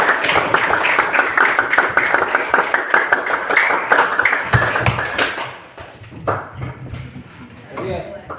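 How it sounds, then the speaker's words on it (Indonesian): A room full of people claps together, a dense burst of applause lasting about five seconds before fading into quieter room noise and murmurs. "Tepuk tangan untuk Sofia."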